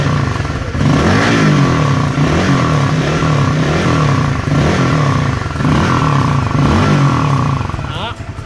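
A Yamaha Winner motorcycle with a Raider exhaust is revved to about 5000 rpm, giving a loud, close, sustained engine roar that swells and eases in repeated waves, with a voice talking over it.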